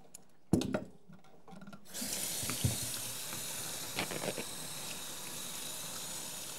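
A kitchen tap turns on with a clunk and runs steadily while potatoes are rinsed under it, with occasional knocks and rubbing in the sink and no talk.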